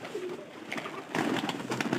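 A newly arrived pair of pigeons coo softly at close range, low rounded calls repeating over a quiet background, with no talking.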